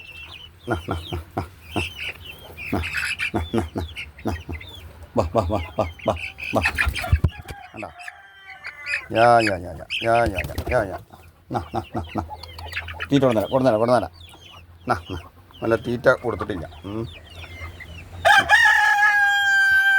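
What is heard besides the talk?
Fayoumi and country chickens clucking and crowing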